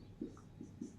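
Chalk or marker strokes on a board during a math lesson, three short soft scrapes in quick succession, faint and close with no voice over them.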